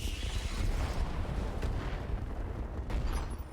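Mech weapons drop bombs in the RogueTech game, making a dense, continuous rumbling barrage of booms that fills the whole moment with no pause.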